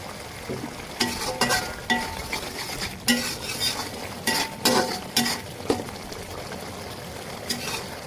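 Spices stirred and fried down in a pan for a bhuna-style beef curry: irregular bursts of scraping, clinking spoon strokes over a soft background sizzle, close by and with no talking.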